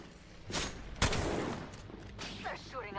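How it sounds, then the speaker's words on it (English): Bursts of gunfire from a firefight in the video game Apex Legends crack out in short volleys, loud and close, with a voice speaking over the shots. "They're shooting at me."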